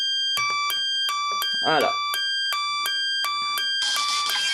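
An automated two-tone siren from a small electronic circuit, a 9-volt battery powering a loudspeaker, switching steadily between a high and a low electronic tone in repeated beeps, with a brief spoken word in the middle.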